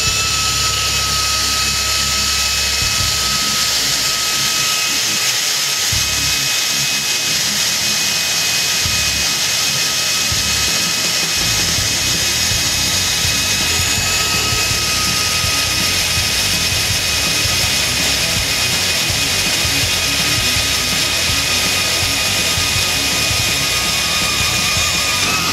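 Pneumatic air drill running off an air line, a loud continuous high-pitched whine with a steady tonal hum, sustained for the whole stretch with slight roughness early on and no voices.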